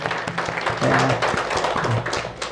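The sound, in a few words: congregation applauding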